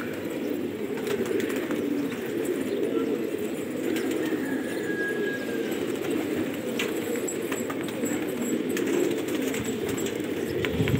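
Gola pigeons coo in a low, murmuring chorus, a steady cluster of soft throaty calls over a faint outdoor background.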